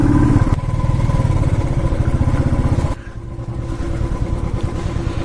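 A motorcycle engine rumbles close by at a steady, throbbing idle near the Pelling Skywalk in Sikkim, then drops abruptly to a lower, quieter chug as the bike comes to a stop and is parked.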